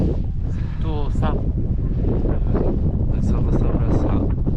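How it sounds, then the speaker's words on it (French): Strong wind buffets a microphone on the Brittany coast, a steady loud roar with rain, as a person talks over it. "Je reçois toutes les gouttes. Et le vent."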